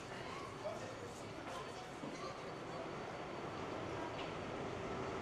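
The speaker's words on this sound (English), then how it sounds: "And then this is the train that just arrived." A New York City subway train sits at Hudson Yards station, its steady low rumble and hiss of the platform filling the space with faint squeals and clatter, while a voice talks over it.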